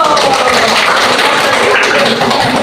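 A classroom full of students claps together, a dense and loud burst of hand applause that holds steady throughout, close by and with no pauses.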